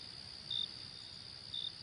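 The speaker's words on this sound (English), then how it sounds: "these crickets are a bit annoying" Crickets chirp as part of a game's ambient soundscape: a steady high-pitched trill runs throughout, with two brief louder chirp bursts about a second apart, faint and with no talking.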